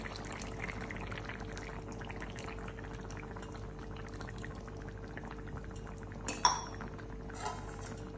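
Coconut milk is poured into a simmering chicken curry in a pot, a soft continuous liquid pour and bubbling at moderate level, with a sharp clink of utensil against the pan near the end.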